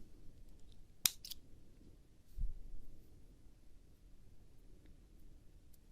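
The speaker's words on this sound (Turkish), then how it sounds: "bir zincir çektim ipimi kesiyorum" Scissors snip through crochet yarn with one sharp, close cut, followed later by a soft low thump against a quiet room background.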